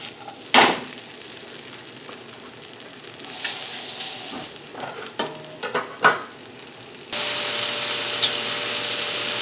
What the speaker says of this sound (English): let these saute for a minute